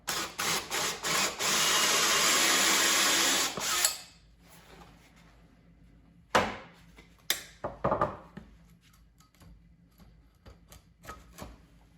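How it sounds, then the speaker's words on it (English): A hole saw cuts through wood in a loud, grinding burst of about four seconds that stops abruptly. Sharper, shorter cutting bursts and scraping knocks follow in bumps of varying loudness, with no speech. "Using these hole saws in wood, you want to keep the sawdust clear."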